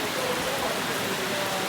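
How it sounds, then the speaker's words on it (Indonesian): Steady rain falls at a roadside mosque rest stop, a continuous even hiss of drops at moderate volume with no pauses or voices. "hujan"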